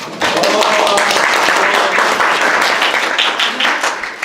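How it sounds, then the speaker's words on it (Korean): Audience applause at a railway union discussion forum welcoming a speaker, loud continuous clapping from a seated crowd lasting several seconds and tapering slightly near the end. "큰 격려의 박수 통해서 맞이해 주시기 바랍니다."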